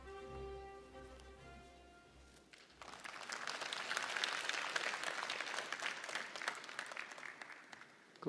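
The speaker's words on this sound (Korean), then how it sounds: "큰 박수로 환영해 주십시오." At a 2022 regional forum in Korea, a hall audience welcomes a speaker with sustained, broad applause that swells after a brief musical intro and continues to the end.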